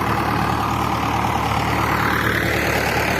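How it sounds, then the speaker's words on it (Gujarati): A tractor drives through a farm field beside a river where cotton grows, its engine a steady, loud, low rumble that carries on unbroken throughout. "હવે ટ્રેક્ટર જાય"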